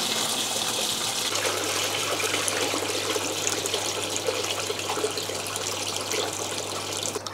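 Water runs steadily through a DIY overhead aquarium sump filter, a constant close trickling and splashing rush; a low pump hum joins partway through and continues beneath the flow, with no talk.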